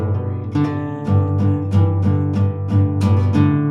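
Acoustic guitar strummed in a steady pattern of even chord strokes, each stroke bright and ringing, played close and alone without any voices.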